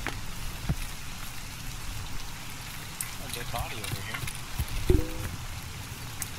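Steady rain falls in a video game at a gas station, a soft, constant patter running throughout at low volume beneath people talking.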